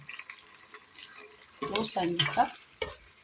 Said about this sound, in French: là nous mélangeons le tout